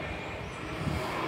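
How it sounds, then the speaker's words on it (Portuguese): A passing airplane rumbles overhead as a steady, broad wash of low, even noise with no clear rise or fall, heard alone in an outdoor garden of cacti and succulents. "Mais um avião passando."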